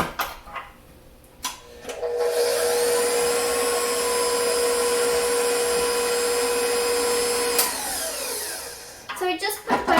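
A motorized mixer or blender whirs steadily for about six seconds, blending butter into eggs and mashed bananas for banana bread batter, with brief clatter before and after the run.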